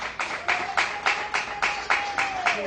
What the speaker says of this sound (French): Sous les applaudissements du public, s'il vous plaît.